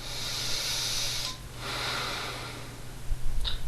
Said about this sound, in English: Then from there, nice big inhale and exhale.